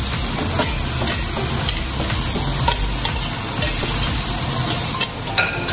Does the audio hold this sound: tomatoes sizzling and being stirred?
yes